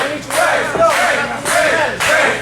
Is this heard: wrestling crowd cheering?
yes